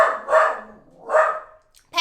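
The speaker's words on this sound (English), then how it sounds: "There's a man walking his dog." A dog being walked outside barks twice in sharp, fairly loud bursts about a second apart, followed by a brief start of a third bark.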